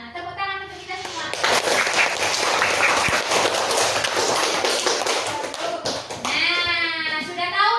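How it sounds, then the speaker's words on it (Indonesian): Schoolchildren clap together in a classroom, a dense burst of many small hands that swells after a brief pause, holds loud and steady for several seconds, then fades as voices return. "tepuk tangan untuk kita semua"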